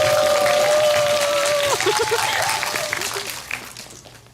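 An audience at a film talk event applauding, a broad wash of clapping that gradually fades out, with a voice speaking briefly over it.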